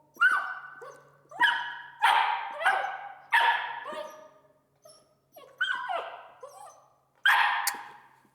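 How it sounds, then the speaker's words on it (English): A puppy barking in short, sharp bursts, about seven yips and barks spaced irregularly, fairly close and clear, with no talking over them. "We want her to be sure it's barking that gets a reward."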